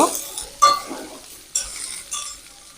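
Pointed gourd, potato and rice being sautéed together in a pan, with intermittent scraping strokes of stirring, a few sharp clanks of utensil on metal and a soft sizzle between them, close by.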